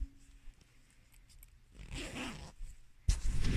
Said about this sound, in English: underneath, you can see the zipper, or if you've put snaps across there